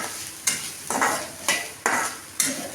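Spices and grated coconut stir-fried for a raw mango curry, with a spatula scraping the pan in five regular strokes over a steady dry sizzle, close and clear.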